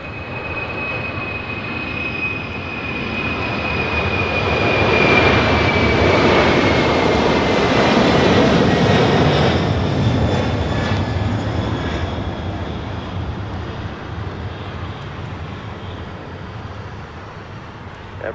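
An airliner on its takeoff roll down runway 5 Left at LAX, a broad, steady jet-engine roar that swells to a peak midway and then slowly fades, with a thin high whine running through it and no talking.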